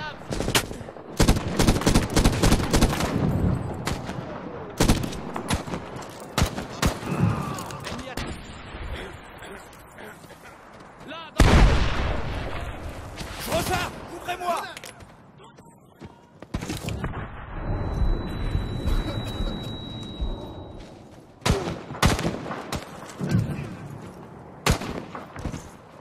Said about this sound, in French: Attention à tes tirs, Adam